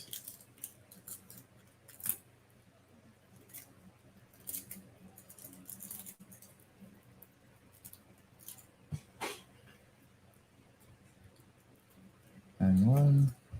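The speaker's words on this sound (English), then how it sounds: "We'll slowly cut off a part of the packaging." Scissors snip open product packaging for a card deck, with sparse, scattered cutting clicks and rustles; a loud burst of handling noise comes near the end.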